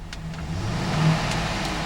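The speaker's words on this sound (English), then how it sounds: "I'm going to rev the engine here." 2007 GMC Yukon XL Denali AWD engine rising briefly from idle in a short rev, a close, steady low rumble that swells and then settles.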